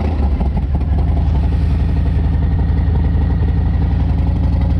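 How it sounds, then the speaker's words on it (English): Harley-Davidson Fat Bob motorcycle engine while riding, a loud, close, continuous throbbing rumble at steady revs throughout. "Boy, that bike's loud."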